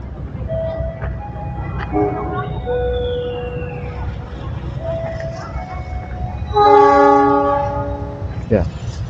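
A departing train at Purwakarta station in Indonesia sounds a long, loud horn blast near the end, over a steady low rumble of the railway.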